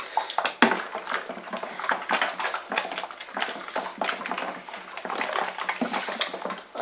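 Water splashes and clatters into a homebrew stout brew from a pan used to heat malt extract, with irregular pouring bursts, knocks and metallic clinks of the pan close by, continuing without talk.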